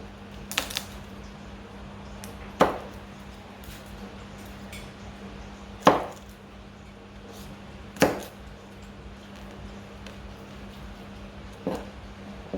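A knife chops through an onion on a cutting board for meatloaf, with about five sharp, isolated knocks spaced a second or two apart over a steady low hum.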